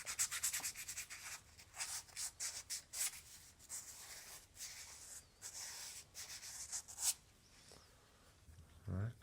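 Rusty tin snips are sanded by hand with sandpaper in quick, repeated rasping strokes, close and fairly quiet, with short gaps between bursts of rubbing.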